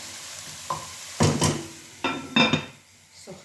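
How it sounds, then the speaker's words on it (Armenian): Onions frying in a pan, a soft sizzle underneath with several sharp bursts of stirring and scraping that come and go in uneven clusters, close by. "Հիմա ես սոխը դրել եմ արդեն սոխառած է լինում սիրելիներս։"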